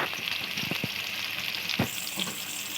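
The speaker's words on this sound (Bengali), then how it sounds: "টমেটো কুচি একটু ভেজে নেবো পেঁয়াজের সাথে" Chopped tomato sizzles with onion in a pan, a moderate close hiss with a few clicks and scrapes of stirring, fairly quiet over a short stretch.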